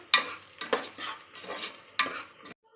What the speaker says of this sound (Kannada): ಇದಕ್ಕೆ ಸ್ವಲ್ಪ ನಾನಿವಾಗ ಗೋಡಂಬಿ ಹಾಕಿ ಮಾಡ್ತಾಯಿದ್ದೀನಿ ಎಲ್ಲ ತುಂಬ ಚೆನ್ನಾಗಿ ಫ್ರೈ ಆಗಬೇಕು